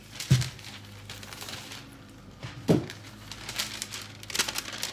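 Craft paper being handled and crinkled at a heat-press station, with three distinct crisp rustles spread across a quiet background.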